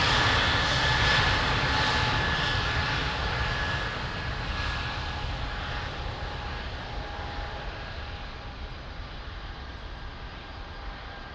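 An aircraft takes off from runway 02 at Lisbon Airport, a loud, steady jet roar with a thin high whine that slowly fades as it departs over about eleven seconds, heard alone.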